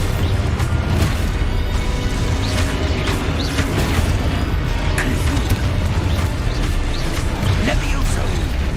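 Continuous Expulso blasting-spell explosions rumble through Hogwarts Legacy combat, with heavy booms, crashes and crackling debris layered into a thick, steady roar throughout.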